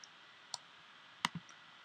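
A computer mouse clicks while editing in Xcode, with a few sharp isolated clicks, including a close pair near the middle, over quiet background.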